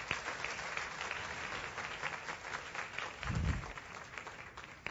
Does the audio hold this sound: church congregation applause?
yes